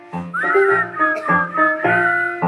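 A person whistles a cheerful tune of rising and falling notes in several short phrases, close and clear with no talking.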